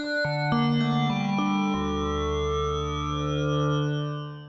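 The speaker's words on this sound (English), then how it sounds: "A little short pluck that sounds just terrible can turn in this beautiful sound." Short synth pluck notes from Native Instruments FORM, bright and harmonically rich, stepping through a few pitches and then ringing into a sustained, effected chord with chorus-like shimmer and echo.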